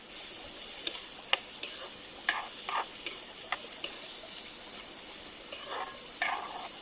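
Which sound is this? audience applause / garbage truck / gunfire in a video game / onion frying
onion frying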